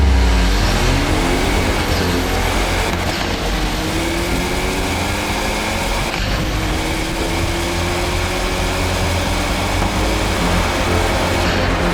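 A Hyundai Elantra and a Ford Mustang accelerate hard side by side in a drag race, a loud, steady engine roar with rising revs that carries on without a break.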